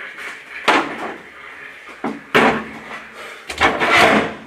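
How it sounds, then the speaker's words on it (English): A series of sharp plastic clicks and scraping as a pick pries a gold clip off a hatchback's window winder handle against the door card, coming in short bursts with brief pauses between them. "you've got to try and fish that gold clip out with a pick wedged between the handle and the door card"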